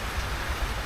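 Steady rain falling outdoors in Costa Rica, a dense, even hiss close by with no gaps.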